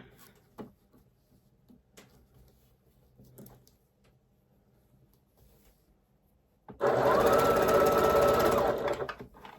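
Sewing machine stitching quilt pieces together, starting after several seconds of quiet small handling noises and then running as a loud, steady, close whir for about three seconds.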